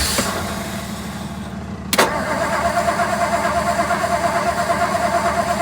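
A 1956 Ford Thunderbird engine cranks as the key is turned, then catches with a sharp burst and settles into a steady, close, pulsing idle.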